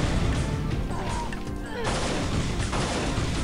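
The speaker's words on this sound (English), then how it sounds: "And you see how quickly they shoot" Enemy projectile weapons firing in Unreal in the Rrajigar Mine level, a steady stream of quick shots and sharp impacts layered over game ambience, with a bright burst partway through.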